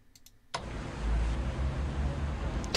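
Game city ambience of cars in Moscow from the WWI strategy game Strategic Command: after a quiet start with a faint click, a steady broadband traffic rumble of engines and road noise swells in and holds at moderate level.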